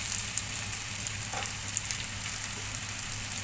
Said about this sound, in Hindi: इसको हम इस तरीके से हल्की हल्की करके कोफ्तों को फ्राई कर लेंगे